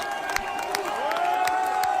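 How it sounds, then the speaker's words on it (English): Vast crowds of protesters, including firefighters, marching for their pensions across France: a steady wash of distant crowd noise with scattered shouts and whoops, and a long whistle-like tone rising above the din. "Vast crowds have assembled across the country."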